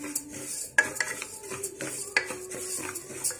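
A metal spoon scrapes and clinks against a pan while toor dal is stirred and fried, with sharp irregular knocks and scrapes standing out over a faint background sizzle.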